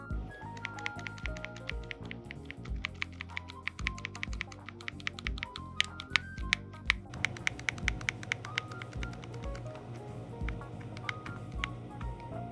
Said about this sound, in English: These face buttons and D-pad can be quite loud when you press them, similar to other retro membrane controls.